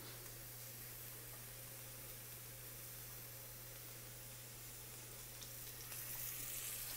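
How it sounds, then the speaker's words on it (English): Food sizzles in hot oil in a pan, a continuous crackling hiss at a steady low level, with a low hum underneath and a slightly louder burst near the end. "Oh my God, it's sizzling."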